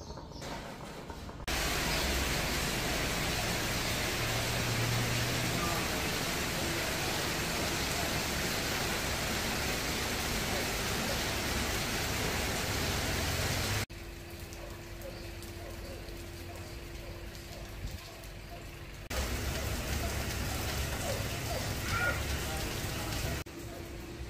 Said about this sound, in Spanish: Y en estos días hemos sido bendecidos con la lluvia